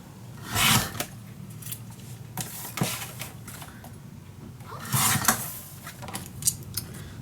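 Scissors cut through a piece of scrapbook paper up close, giving a few crisp snipping and rustling bursts spaced a couple of seconds apart over faint background hum.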